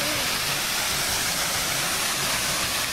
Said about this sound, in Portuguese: Olha só que legal a cachoeira, pessoal.